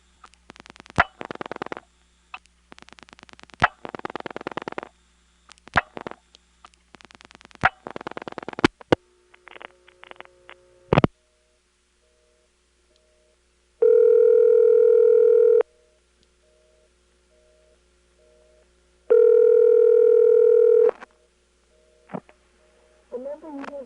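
A senderized step-by-step (XY) telephone exchange in Lexington, South Carolina clicks through dialed digits in rapid bursts of sharp mechanical pulses, followed by steady tones and pauses, with no voices.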